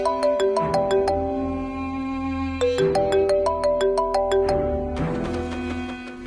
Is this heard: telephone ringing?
yes